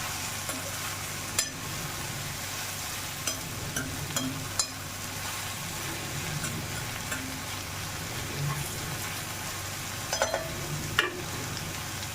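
Vegetables sizzle and fry in oil in a wok, a steady crackling hiss with occasional stirring clinks of a utensil against the pan.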